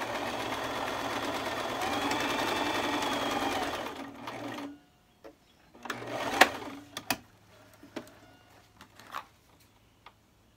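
Sewing machine top stitching a pillow seam, a fast continuous whirring run for about four seconds, then stops, followed by scattered clicks and brief handling noises.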